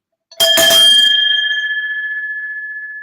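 A single loud, sharp cowbell clang that rings on and slowly fades away, heard alone.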